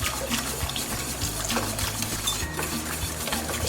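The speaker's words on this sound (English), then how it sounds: "I'm gonna slowly pour some heavy cream and continuously mix it to slowly bring up the temperature of my egg yolks" Heavy cream slowly poured into egg yolks and whisked continuously for a chocolate crème brûlée custard, a steady low liquid pour with soft mixing clinks, close and moderately quiet with no talking.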